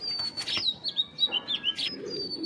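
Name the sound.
pigeon flapping wings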